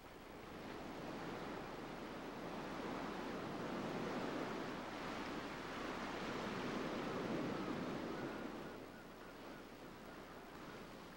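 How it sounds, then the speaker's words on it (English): Steady, continuous roar of waves surging against a rocky shore, a broad unbroken wash of water noise at moderate distance that swells slightly midway and eases near the end, with no voices. "The endless surge of moving water may discourage would-be predators"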